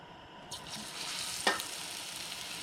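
Beer batter dripped from a whisk into hot frying oil, a sizzle that flares up suddenly and keeps hissing steadily close by, with one sharp click partway through.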